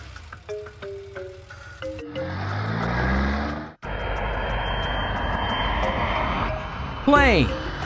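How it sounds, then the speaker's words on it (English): A toy-style airplane sound rises into a steady engine roar after a few short chiming tones, holding for several seconds before ending in a quick swooping sweep. "Plane."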